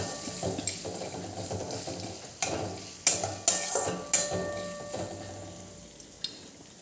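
A spoon stirs green pigeon pea grains in a pan for tuver pauva, with a series of sharp metallic scrapes and knocks against the pan over a soft background sizzle, irregularly spaced and close.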